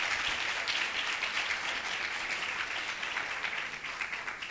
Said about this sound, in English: let's give her and all of our judges one more big round of applause